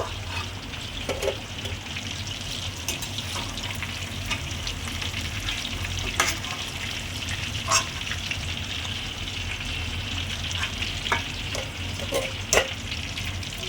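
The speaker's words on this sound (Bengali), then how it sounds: "আমার ফিশ ফ্রাইটা ভাজা হয়ে গেছে, ঠিক এরকমভাবে ভাজতে হবে" Bhetki fish fry sizzles steadily in hot oil, a dense continuous frying hiss with occasional sharper pops and spatters, close and fairly loud, with no talking.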